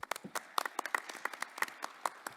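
A small audience at a forest monitoring conference session claps to welcome a doctor as speaker, a brief, fairly faint patter of separate individual claps.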